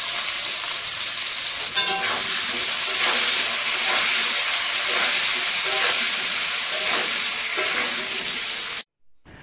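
Pointed gourd slices fry in oil with a continuous close sizzle and hiss, broken by a few soft scraping stirs, holding steady for about nine seconds before cutting off abruptly; no speech is heard.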